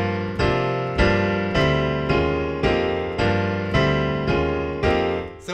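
A piano plays the ending of a song, with steady, evenly spaced chords struck about once every 0.7 seconds, each ringing and decaying, close and clear with no talk.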